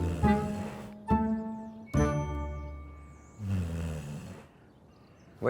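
A sleeping dog snores loudly and close by, a few long rumbling breaths spaced a second or so apart, with no talk over them.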